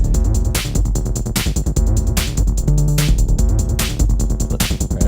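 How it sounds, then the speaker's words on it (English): Randomly generated 303-style acid synth line run through an Arturia Fragments FX preset, a dense, loud, continuous stream of rhythmic pulsing notes with bright sweeping bursts and a steady sequenced groove. "this preset sounded awesome on this randomly generated 303 line"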